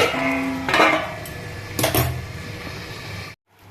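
A lid set down over a frying pan of lote fish in a home kitchen, giving a couple of metallic clanks and a short rattle against a background of steady sizzling, ending abruptly.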